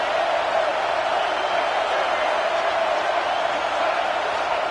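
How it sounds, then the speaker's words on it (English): A stadium crowd in the College Football 26 video game roars as a steady, dense wall of sound, holding loud and even throughout with no clear peaks or pauses. "This crowd rising up,"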